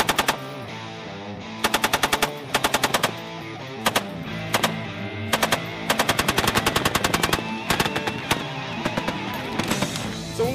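An M240 Bravo 7.62mm machine gun fires aboard a navy ship in repeated loud automatic bursts of rapid shots, near and punchy with short gaps between bursts.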